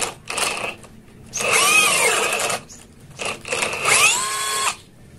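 A brushless power drill with a 10 mm bit revs up and bores into wood in two long bursts, whining and grinding, with short pauses between them.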